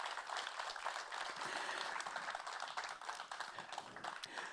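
An audience at a live podcast recording applauds a guest, producing dense steady clapping at moderate distance with no voices over it.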